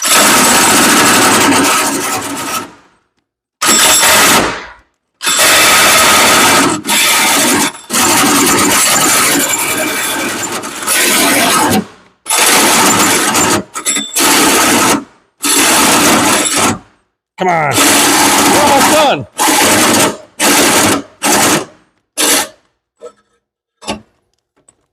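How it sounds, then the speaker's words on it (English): Loud whining bursts of a cordless drill boring into the metal of a Mustang car, long runs then shorter stop-start pulses that fade out as the drill dies, a voice briefly speaking. "I'm drilling another hole in your car."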